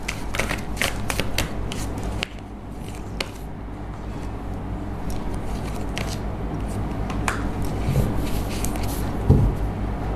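Tarot cards are shuffled and pulled from a deck in a series of quick papery flicks and slides, close and fairly soft, over a steady low hum of room noise.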